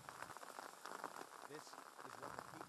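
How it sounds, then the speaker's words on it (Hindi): Rain falls steadily in earthquake-hit Nepal, a faint continuous patter on surfaces, with a voice murmuring faintly in the background. "और अब बारिश शुरू हो गई है"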